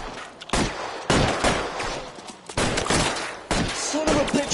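Gunfire in the L.A. Noire video game: several loud, sharp shots in quick succession, each a hard crack with a short decay, filling the clip in a tense exchange.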